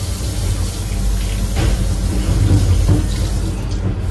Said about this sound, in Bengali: আর এই কল অটোমেটিক অফ হয়ে যাবে।